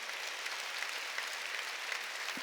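Church congregation applauding during a Sunday service, a steady, even wash of many hands clapping at moderate distance, continuous for a couple of seconds with no voices.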